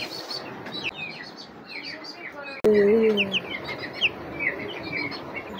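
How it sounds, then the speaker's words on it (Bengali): Small chicks on a home farm give high, thin cheeping calls, scattered and fairly close, with a sharper, louder call cutting in partway through over a steady background hum. "তো এই ফার্মটাতে ছোটো ছোটো কিউট মুরগির বাচ্চা আছে, সেগুলো আপনাদেরকে দেখাচ্ছি।"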